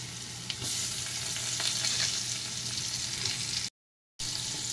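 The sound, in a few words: onion and tomato frying in melted butter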